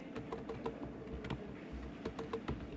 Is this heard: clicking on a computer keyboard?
yes